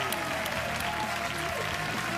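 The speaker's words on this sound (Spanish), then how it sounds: "El aplauso para Claudia, para su equipo." Applause from the audience at a Got Talent Chile quarterfinal, a steady, even wash of clapping with an underlying tonal hum from the hall or music bed.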